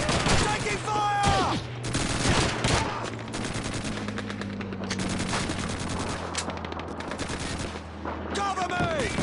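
Rapid bursts of gunfire crackle almost without pause through a Call of Duty 2 firefight, dense automatic shots layered with distant rounds and whistling ricochets over a steady low battlefield rumble.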